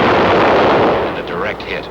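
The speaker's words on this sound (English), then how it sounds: "The 75 recoilless rifle." A 75 recoilless rifle firing in a war setting, one loud booming blast whose rumble fades over a couple of seconds, with faint voices behind it.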